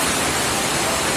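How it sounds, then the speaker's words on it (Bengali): Heavy rain pours outside onto a road and soaked trees, a steady dense hiss filling the whole stretch without pause, with no voices. "রাস্তা অনেক জোরে বৃষ্টি হচ্ছে।"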